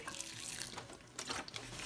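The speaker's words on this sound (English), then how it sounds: "And then all I need to do now is I'm going to water it." Water trickles from the holes in the top of a refilled plastic milk bottle onto seedlings, a close, steady splashing and pattering that runs unbroken for a couple of seconds with no talk.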